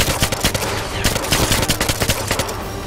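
Rapid automatic gunfire in the video game James Bond 007 Legends, loud and dense bursts of shots firing almost continuously for a few seconds with no talking.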